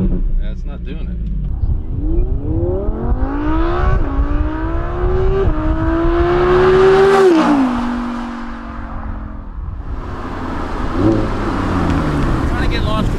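An Audi R8 V10 Plus revs hard during a launch control attempt. The engine note climbs in loud rising sweeps, holds near the top, drops back, then surges again, heard from inside the car.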